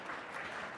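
Conference audience at a tech event on a spotlight stage applauds, a soft, steady wash of clapping heard from a distance and with no voices on top.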